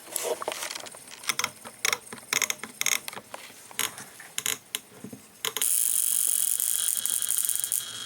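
A Violux electrical device, really a mid-1990s stun gun, is switched on after some clicking and handling; a loud, steady high-pitched buzz of sparks jumping an inch-wide gap then runs continuously near the mic.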